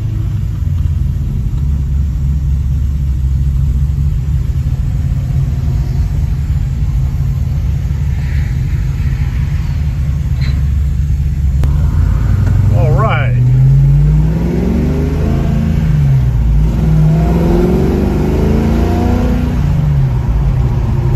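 A 1969 Camaro with a 350 V8 rumbles steadily at close range, its exhaust note rising and falling through several revs while people talk over it.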